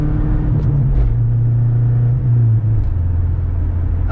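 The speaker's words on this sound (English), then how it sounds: "Just dumping the clutch." A Subaru Forester pulls away hard after the clutch is dumped, its engine a loud, close rumble that climbs and steadies, with a low drone dominating throughout.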